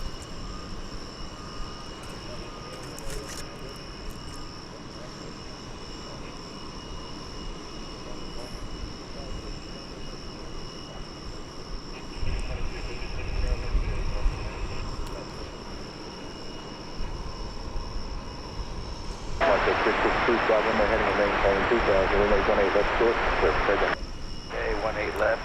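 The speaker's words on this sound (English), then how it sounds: "I believe this is an all-cargo plane" An all-cargo plane at DFW Airport rumbles past in the distance, its engine roar swelling loudly near the end before cutting off, with a faint steady hum underneath throughout.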